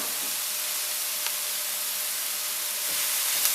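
Garlic sautés in a hot pan as a dense, even broadband sizzle. It stays steady and fairly loud for the whole stretch, with no talking over it.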